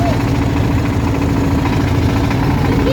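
A motor boat engine drones steadily and loudly throughout, carrying people across the water on an Eid outing, with a constant low rumble and no pauses.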